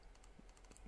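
Quick typing on a computer keyboard, a short burst of several light, close key clicks in an otherwise quiet room.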